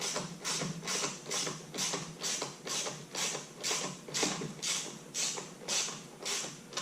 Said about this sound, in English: Let's tighten this guy down.